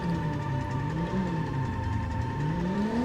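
A car engine whines steadily with rising and falling pitch while it drifts around a track in a PS1 racing game on C1 Circuit, droning continuously and close with no talk.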